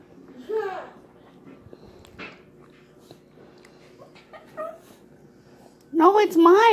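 A dog whimpers and whines in short, high, wavering cries indoors, a few faint ones early on and a louder cluster at the end, alongside quiet household noise.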